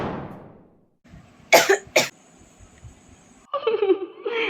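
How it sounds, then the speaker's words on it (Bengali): A woman coughs twice in sharp, harsh bursts, then gives a longer run of rough, throaty coughing, heard close with quiet pauses between. "আমার কাশিটা জন্মগত,"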